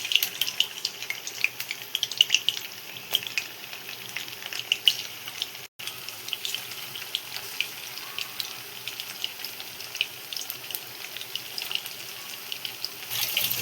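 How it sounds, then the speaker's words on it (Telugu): Chicken pieces frying in hot oil over a medium flame, a continuous fine crackling sizzle with small pops, steady and fairly close, with a momentary dropout partway through. "ఇట్లా ఒక్కొక్క పీస్ ఆయిల్లో వేసుకొని ఫ్రై చేసుకోవాలి"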